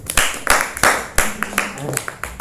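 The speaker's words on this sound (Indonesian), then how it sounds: "Kita berikan aplaus kepada kelompok 1" A classroom of students claps in applause for a presenting group, scattered uneven claps close by at a moderate level.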